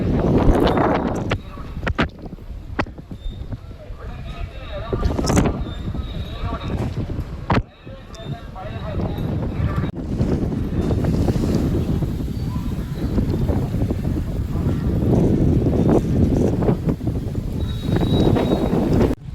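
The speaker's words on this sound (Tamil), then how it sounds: "சரியான காற்று." Strong wind buffets the microphone in loud gusty rushes with brief lulls at Vellakovil bus stand in Tamil Nadu, joined by a low idling bus rumble and scattered voices.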